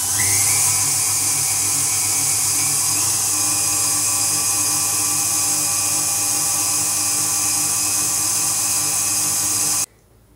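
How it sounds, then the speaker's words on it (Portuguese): A stand mixer whines steadily, high-pitched and close, beating cake batter with sugar at low speed, its motor pitch rising slightly early on before it cuts off near the end. "Vamos lá então aqui ligar a batedeira."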